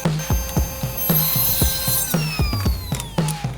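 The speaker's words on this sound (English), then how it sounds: "we're going to rip our backers first out of this hickory at 1 inch" A hickory board is ripped on a saw in a pass, making a loud, close, rhythmic grinding and rasping with repeated whining tonal squeals that rise and fall as the cut progresses.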